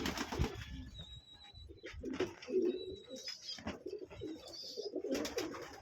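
Pigeons coo in a home pigeon loft, soft low throaty calls repeating close by with a thin high whistle now and then, steady and unbroken by talk.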